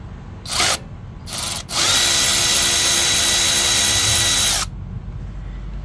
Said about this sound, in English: We're gonna go ahead and remove that nut right now. 30mm socket.